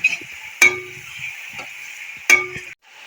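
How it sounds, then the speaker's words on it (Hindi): Chicken frying with garlic in a pot gives a steady, bright sizzle. Two sharp metal clanks of a stirring utensil cut through it before the hiss suddenly drops away. "ये चिकन जो है ये हम शामिल कर देंगे। इसको हम लहसुन के साथ ही ना फ्राई करेंगे"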